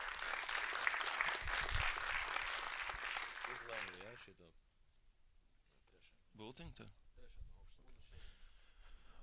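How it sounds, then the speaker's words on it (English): Loud clapping from a crowd fills the first four seconds, then fades into quieter room sounds with some brief speech. "please give a big round of applause for Ghetto Games for having us here today"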